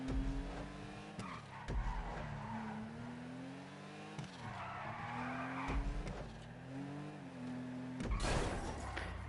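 A car drifts through a tight hairpin in GTA 5, its engine droning and rising in pitch while tires squeal and skid in repeated bursts, heard up close without any talking.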